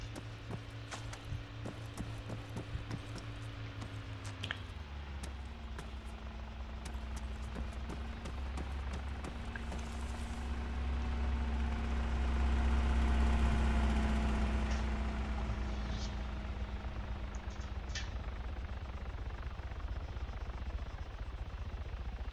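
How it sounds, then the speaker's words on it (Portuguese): A police helicopter hovering overhead in the video game Arma 3: a steady low rotor-like drone with engine rumble swells to a peak midway and fades, with scattered sharp clicks and bursts over it; no talking. "Helicóptero da polícia, velho. Em cima da gente."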